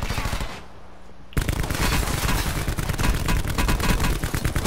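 Sustained, dense automatic gunfire in Call of Duty Black Ops 4, loud and close with rapid overlapping shots, starting after a brief quieter stretch and continuing to the end.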